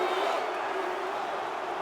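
Stadium crowd noise at a Newcastle vs Liverpool match swells as a dense, continuous roar from a packed ground, steady and broad for a couple of seconds.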